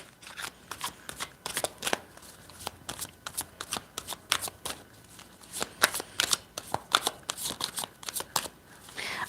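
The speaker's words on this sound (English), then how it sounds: "So I'm going to be pulling cards for this." Cards are shuffled for a card reading, giving a steady, close stream of crisp riffles and snaps that continues for several seconds with no talk.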